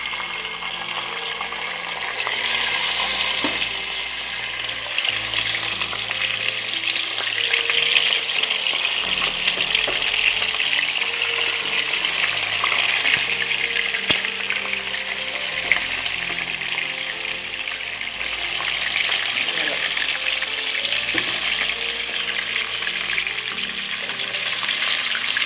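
Spinach searing in olive oil in a pan, a loud, steady crackling sizzle that runs close and continuous for the full stretch with no voices.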